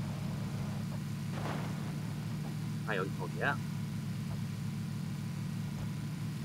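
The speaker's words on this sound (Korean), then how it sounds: "차 소리 나." A car engine in the battle-royale game PUBG hums as a steady low drone that holds at an even level throughout, with brief speech heard over it.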